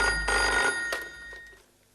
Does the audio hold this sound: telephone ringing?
yes